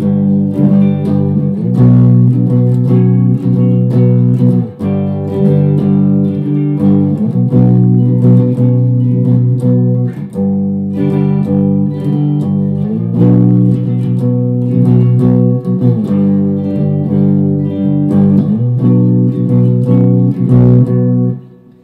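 Electric guitar playing the first main riff of a song, a loud, heavy chugging pattern repeated in regular phrases, with brief gaps between bars and no voices.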